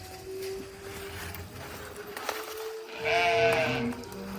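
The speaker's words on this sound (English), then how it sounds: "Oh, there's the sheep again." A sheep out in a pasture gives one clear, fairly close bleat partway through, after a stretch of quiet outdoor ambience.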